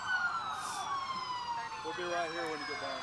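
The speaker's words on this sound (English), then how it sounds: "Elizabeth, we have lots of sirens here all of a sudden" Emergency vehicle sirens from police and fire department vehicles at the 2017 Kannapolis Christmas parade: several overlapping wailing sirens sweep continuously at moderate distance over crowd and street noise.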